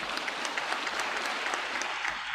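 Steady applause from an audience at a military commissioning ceremony, a dense patter of clapping hands that holds at an even level the whole time.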